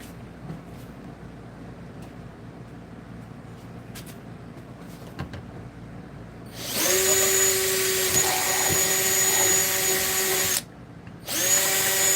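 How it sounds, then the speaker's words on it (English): After quiet handling noises, an electric drill whirs loudly and steadily, stops briefly, then starts up again. "I can definitely drill a hole in this and anchor it a little bit."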